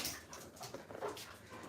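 A dog whimpers softly indoors in a home, faint thin whines and small rustling sounds spread across a couple of seconds, with no talk over them.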